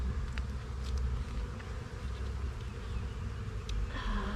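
Honey bees buzzing across a full food frame of nectar pulled from a hive, a dense, steady close-up drone with no pauses.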